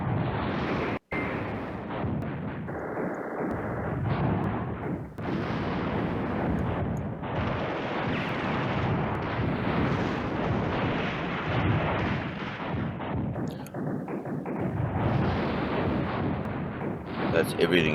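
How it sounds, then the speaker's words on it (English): Artillery fire in the Command Ops 2 war game booms continuously as dense, rumbling bursts and distant blasts overlapping across the whole stretch, with a voice talking over it. "He's using artillery to drive him away."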